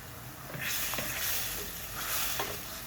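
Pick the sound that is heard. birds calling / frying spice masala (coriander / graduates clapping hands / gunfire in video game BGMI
frying spice masala (coriander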